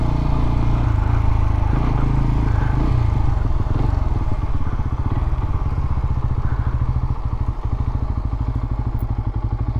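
Several bikers' motorcycles idle and rumble close by outside a tea room, a loud steady engine throb with some clattering and thumping.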